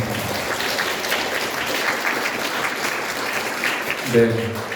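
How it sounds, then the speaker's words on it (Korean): A church congregation at a Sunday service claps for its young people, a steady, moderately loud patter of many hands that carries on evenly, with a brief voice or tone near the end. "우리 청년들 위해서도 한번 박수 한번 할까요?"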